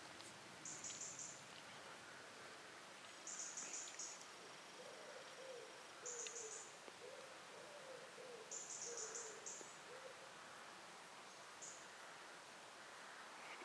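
An owl hoots several times in short repeated bursts, fairly near, in the afternoon at an overnight camp, over quiet outdoor ambience with a softer lower call answering in between.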